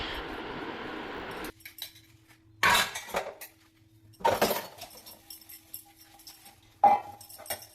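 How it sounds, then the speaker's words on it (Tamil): Running water gives way to clattering dishes and clinking cutlery, with pots and plates knocked together in short bursts at a sink. "ஷிங்கில் பாத்திரங்கள்லாம் இருக்கும் அதெல்லாம் வாஷ் பண்ணிவிடுவேன்"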